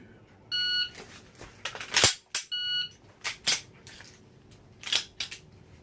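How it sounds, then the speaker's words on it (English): A pistol slide slams forward as the slide stop is hit during dry-fire practice, giving a few sharp metallic clacks spaced across the clip among other clicks and beeps, close and fairly quiet, with no talking. "I'm going to get some practice with the actual slide lock back. Hitting the slide stop"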